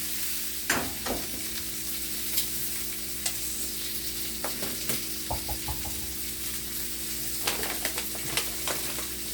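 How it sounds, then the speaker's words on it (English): Beef filet steaks searing in a pan with rosemary give a steady, close sizzle that runs throughout, broken by occasional crackles and stirring or turning clatters. "Checking out my steak over here, getting a nice sear on that other side."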